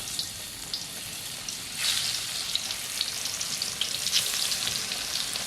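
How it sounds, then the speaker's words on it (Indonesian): Tempeh fries in hot oil, a steady close sizzle and crackle with occasional louder bursts as pieces are stirred, alone without talking. "Tinggal goreng tempe."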